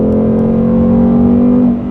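A 2021 Ford Mustang Mach 1 holds a steady, loud engine drone while cornering, its tone sustained and close with a slight dip at the end, no voices present.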